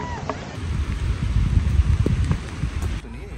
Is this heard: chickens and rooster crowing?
no